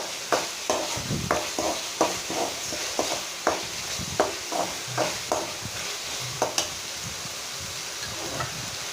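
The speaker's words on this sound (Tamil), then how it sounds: "இப்போ சூடாக வடித்து வச்சுருக்கிற சாதத்தை எடுத்து இந்த தொக்கோட சேர்த்து நம்ம கொஞ்சம் கொஞ்சமாக மிக்ஸ் பண்ண போகிறோம்." Hot cooked rice being stirred into mint thokku in a pan to make puthina rice, giving a steady run of soft scraping and stirring strokes with a light sizzle, close and even, with no talk.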